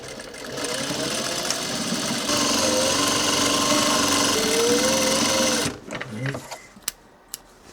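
A sewing machine stitches the bottom hem facing of a workwear jacket to the front, running steadily and loud for several seconds before stopping, followed by a few faint handling clicks.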